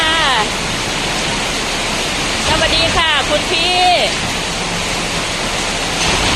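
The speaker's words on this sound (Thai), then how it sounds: "ฝนตกแล้วดีใจมาก" Rain falls at a Thai home as a steady, loud broadband hiss throughout, while someone talks over it.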